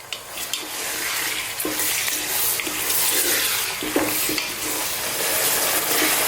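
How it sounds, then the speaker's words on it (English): Chicken pieces for a garlic chicken stew fry in a pan, a steady close sizzle running throughout with occasional scrapes and knocks as they are stirred around, and no voices. "what I want to do is just fry this around"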